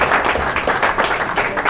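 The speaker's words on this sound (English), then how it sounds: "Give these two a round of applause" Brief audience applause after a live sound-effects performance, a burst of many hands clapping loudly and close for under two seconds with no talk.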